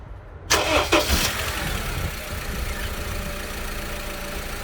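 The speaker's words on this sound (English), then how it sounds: "Start up your engine and look for the lowest reading point." A car engine cranks with a few loud strokes before catching, then settles into a steady, close idle that runs to the end.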